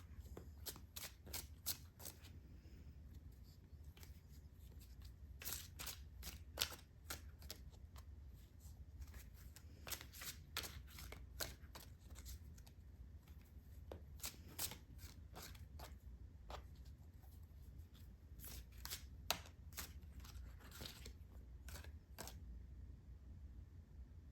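Tarot cards shuffled by hand close up, repeated quick riffles and flutters in bursts across a long stretch, over a low steady room hum with no talk.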